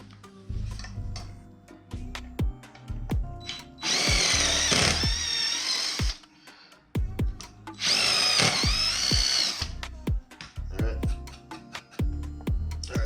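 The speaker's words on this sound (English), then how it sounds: "that's where I'm gonna drill holes" Power drill boring holes into a mounting plate for side-facing LED plate lights on a Can-Am Ryker, two sustained bursts of close, loud whining drilling separated by clicks and handling noises, no talking.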